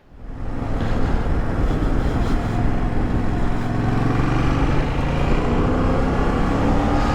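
2024 Yamaha Tracer 7 GT motorcycle engine rising from quiet to a steady, loud riding drone with wind rush, continuous and close, no talking.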